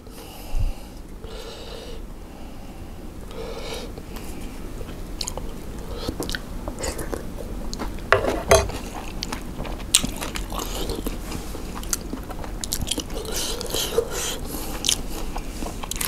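Someone eats papaya salad with rice noodles and fermented fish sauce, chewing and slurping close to the mic with soft wet squelches, bites and occasional sharp crunches over about sixteen seconds, with no talk.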